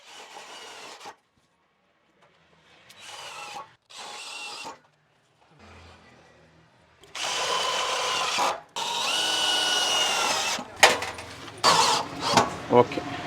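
Power drill driving self-tapping screws into a VOX wooden ceiling panel on a truss house, heard in several short whirring bursts of varying length with pauses between, close and fairly loud, with speech in between.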